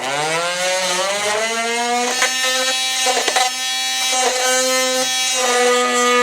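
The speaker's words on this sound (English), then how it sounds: "I'm using a multi-tool here." An oscillating multi-tool cuts through plastic tabs on a 2015 Jeep, giving a loud, steady buzzing whine whose pitch climbs slightly, with brief crackles as the blade bites, heard alone for about six seconds.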